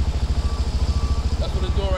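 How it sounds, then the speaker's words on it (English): Yamaha Banshee 350 ATV two-stroke engine running on one cylinder, a close, steady low chugging idle with a fast uneven putter, and people talking over it. "That's what it's doing right now, running on one side."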